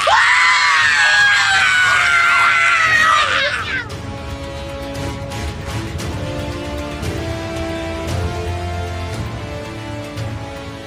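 A woman screams loudly and shrilly from inside a room, a sustained piercing cry of a few seconds that breaks off, followed by a quieter stretch of music-like tones.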